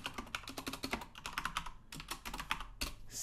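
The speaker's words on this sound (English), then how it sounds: "So we start by typing cr.quote hello world." Rapid, uneven keystrokes on a Commodore 64 keyboard while a program is entered, clicking close and clear with short pauses between bursts.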